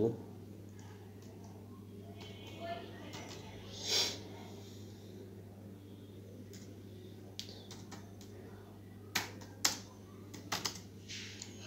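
Computer keyboard keys tapped in short scattered bursts, soft and close, alongside a faint steady hum and occasional breathy sniffs, with pauses between the clusters of keystrokes.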